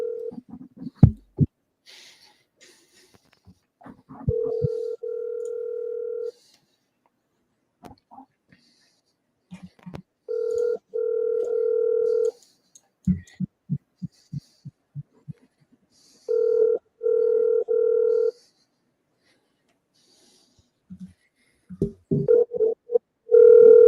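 Telephone dial tone and dialing on a call line, with repeated steady tone bursts separated by short clicks and dial pulses, and brief voices in the gaps between tones.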